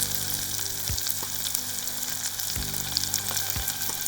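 Chopped onions and tomatoes fry in a pan with lemongrass and curry leaves for manioc pittu, a steady close broadband sizzle with a few low knocks from stirring, no talk.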